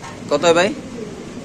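A pigeon gives a short cooing call at a pigeon farm, heard close and brief while people nearby talk over it about prices.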